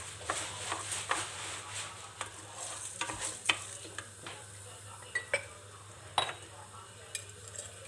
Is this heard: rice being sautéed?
yes